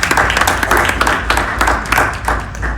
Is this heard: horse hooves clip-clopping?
no